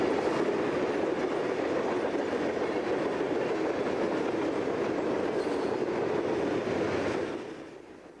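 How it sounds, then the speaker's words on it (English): A northbound Union Pacific freight train rolls past at a siding with a dense, steady rumble and clatter of cars, loud throughout before fading as it moves away near the end. "we get a going-away view of northbound UP train HOAS at Ardiola Siding"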